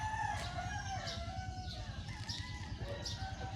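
Roosters, including a white one, crow repeatedly in the distance on a Monday morning over a steady, busy background hum, with several drawn-out calls spaced across the moment.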